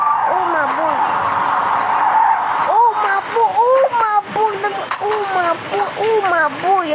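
Tyres skid and screech as a car drifts in the Double Drift video game, a steady loud game-engine and skid noise running throughout beneath a person talking excitedly.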